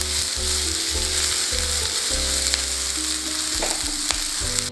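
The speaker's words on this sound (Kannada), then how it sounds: "ಈರುಳ್ಳಿ ಹಾಕಿಬಿಟ್ಟು ಒಂದು ಎರಡು ನಿಮಿಷ ಫ್ರೈ ಮಾಡಿ ಚೆನ್ನಾಗಿ. ಇದೆಲ್ಲ ಹೈ ಫ್ಲೇಮಲ್ಲೇ ಮಾಡಬೇಕು ನೀವು." Onions frying hard over a high flame for egg Manchurian, a loud, steady sizzle with scraping stir strokes breaking through at intervals, close and alone without any voices.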